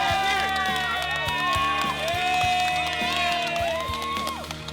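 Volunteers cheer together after packing meals, a short burst of whoops and shouts over steady background music, loud and close, fading slightly at the end.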